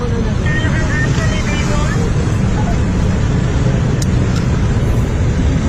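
An engine running at half throttle, a loud continuous close-up roar and rumble that stays steady throughout, with faint voices mixed in.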